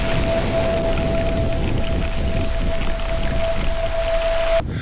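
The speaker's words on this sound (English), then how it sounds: "Squalls appear, rain cells with shifting winds." Rain squall at sea during a solo sail, a steady, dense hiss of rain and wind noise filling the whole stretch at constant loudness, with a faint sustained tone running beneath, cutting off abruptly at the end.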